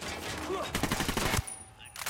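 Gunfire bursts in the Ghost Recon Wildlands video game, a fast fusillade of shots at mid distance followed by a brief lull and a few more cracks.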